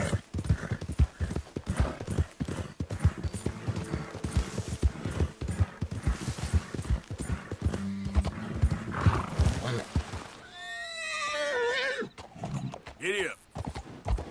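A horse galloping in a PS4 video game, with rapid rhythmic hoofbeats that drop away near the end, then a loud neigh. A voice is also present.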